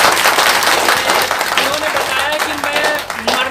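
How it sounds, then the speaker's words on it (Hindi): A village audience at an outdoor chaupal gathering for a candidate applauds loudly in a sustained burst of clapping, with crowd voices mixed in and someone talking over it. "जोरदार तालियों के लिए"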